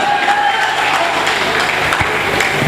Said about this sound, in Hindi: तालियां बजाइए अकबर साहब के लिए।